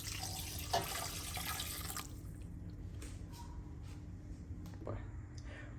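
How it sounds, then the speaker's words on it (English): Water poured into a pot with roasting chicken and olives makes a faint splashing trickle at first, then thins into scattered drips and small clinks, quiet and close. "we take 2 cups of water and pour them on the side"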